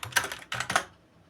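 Quick bursts of typing on a computer keyboard, a few clustered clacks close to the mic, then the keys fall silent.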